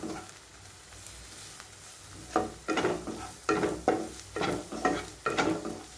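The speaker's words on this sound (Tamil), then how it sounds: "இஞ்சி பூண்டு விழுது நல்லா பச்சை வாசனை போகிற அளவுக்கு வதக்கி எடுத்துக்குவோம்." Ginger garlic paste sautéing in a pan for a capsicum onion curry, heard as a faint background sizzle broken by a run of sharp, rhythmic stirring scrapes of a spoon against the pan, close and clear with no voices.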